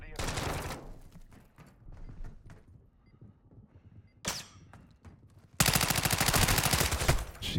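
Heavy automatic gunfire in the DMZ shooter game, with a brief opening burst and then a long, loud, rapid sustained volley near the end, separated by quieter scattered shots and movement; a voice speaks in between.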